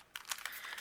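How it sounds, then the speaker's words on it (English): Leftover gems and sparkly card embellishments are scooped back into their plastic package, making a close, brief burst of crisp crinkling and rustling with no speech. "I'm going to go ahead and swoop these back in the package"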